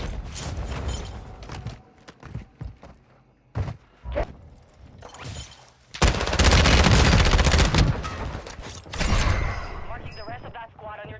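Bursts of automatic gunfire and single shots ring out in a Call of Duty Warzone match, with scattered mechanical clicks, a long loud sustained volley midway, and a voice talking over parts.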